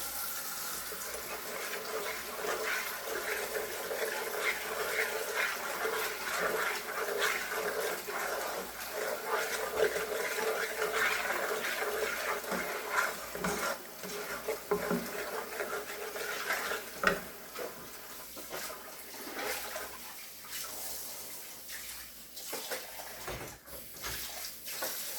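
Hot water running from a kitchen tap while sausage gravy is being cooked and stirred, a steady hissing splash that continues throughout, fairly quiet with no voices.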